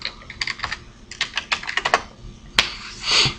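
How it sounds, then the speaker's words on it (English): Someone types a web address into a browser address bar on a computer keyboard, producing quick bursts of close, crisp key clicks separated by short pauses, ending with a firmer keystroke. "I'm going to go ahead and type it right here in my address bar."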